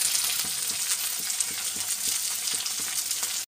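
Onion, ginger and garlic frying in a pan make a loud, continuous sizzle and crackle, with faint regular taps of stirring underneath, ending abruptly.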